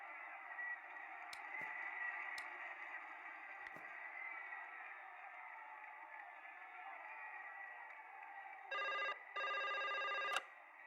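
Telephone ringing in the video game Broken Sword: The Serpent's Curse, two short electronic bursts near the end, over a constant murmur of background chatter and a few sharp clicks.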